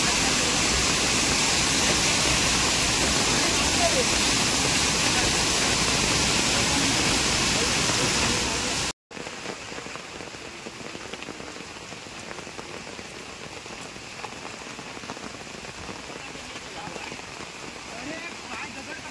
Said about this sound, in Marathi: बघा जोरात पाऊस चालू झाला आणि पाणी बघा खदूळ पाणी येऊन सुरुवात झाली.